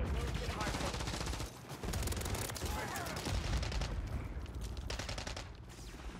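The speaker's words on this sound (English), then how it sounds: "What the hell are you shooting at?" Dense, sustained gunfire in the video game Call of Duty: Modern Warfare 3: loud, overlapping bursts of automatic weapons firing continuously, with a brief dip before the barrage resumes.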